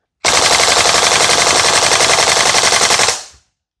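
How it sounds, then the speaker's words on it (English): A VFC AK105 gas blowback airsoft rifle fires on full auto in one continuous loud, rapid burst of about three seconds, close up with no talking, ending abruptly and followed by a brief fading hiss. "Full auto with the VFC AK105."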